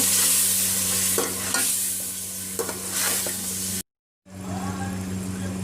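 Biryani masala with soaked tamarind is stirred in a pot, a close, loud sizzling hiss with spoon scrapes and clinks, a brief dropout near the end before the frying resumes.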